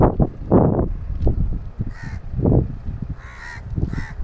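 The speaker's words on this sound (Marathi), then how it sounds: "कावळ्यांची शाळा भरली आहे कावळे" A flock of crows caws in loud, ragged bursts near a farm and fish pond, with overlapping calls from several birds rising and falling.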